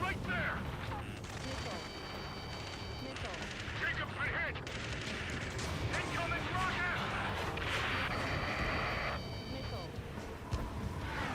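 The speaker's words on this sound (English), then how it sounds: "Taking fire! We're pinned down! Shoot back!" Gunfire and explosions from the video game Ace Combat 7 rattle on throughout, sharp shots over a dense rumbling battle bed, with shouted radio voices mixed in.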